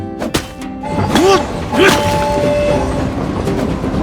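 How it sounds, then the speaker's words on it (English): A train departing in the video game My Time at Sandrock, with a loud thump, two rising whistle or horn toots and a steady rumbling chug over a background music tone, no talking. "Train is leaving."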